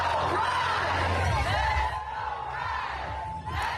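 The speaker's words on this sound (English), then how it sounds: "On three, can I get a let's go Rise?" A crowd of fans at a Vancouver Rise Northern Super League championship celebration shouts a chant together, loud, massed voices yelling in unison for a few seconds.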